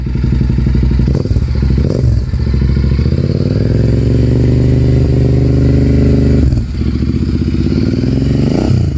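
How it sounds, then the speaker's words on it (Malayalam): A Royal Enfield Interceptor 650 twin-cylinder engine runs loud and close, a dense steady throb with brief revving swells and small dips along the way. "ഇന്റർസെപ്റ്റർ 650യുടെ സൗണ്ട് കേട്ടാൽ മനസ്സിലാവും"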